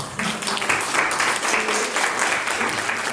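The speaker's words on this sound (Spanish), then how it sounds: "les pido un fuerte aplauso" An audience at a museum project presentation applauds in a dense, continuous wash of many hands, steady and full throughout, with no voice rising above it.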